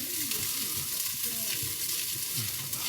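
Sausage ragu with spices sizzles in a pan while being given a quick stir, a continuous close frying hiss with soft scraping of the spoon throughout, no talking.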